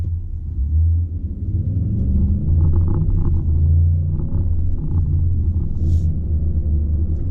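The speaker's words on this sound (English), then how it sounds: "that engine and exhaust noise, I really like it" A Ford F-150 pickup truck pulls away from a green light under acceleration, its engine and exhaust making a steady, loud, deep rumble that holds for several seconds, heard close from inside the cab with no talking.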